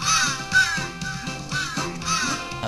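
Crow-like bird cawing in the video game Santa Claus in Trouble, several harsh repeated caws over a looping game soundtrack, fairly close and clear.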